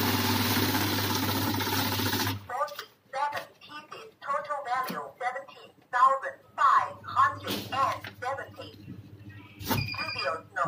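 A NIYO i700 banknote counting machine whirs loudly and rapidly for about two seconds as notes riffle through, then stops, and a person speaks afterward.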